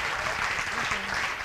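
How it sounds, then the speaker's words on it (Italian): A brief burst of crowd applause at a Five Star Movement rally in a Siena square, dense steady clapping heard close and loud from start to finish. "un applauso da Siena a Battipaglia, dai!"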